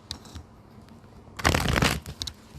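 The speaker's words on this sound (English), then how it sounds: "Just shuffling the card so that I get some nice card." Tarot cards shuffled by hand during a live reading, a short soft riffle followed by a louder burst of crisp card flutter, close and alone.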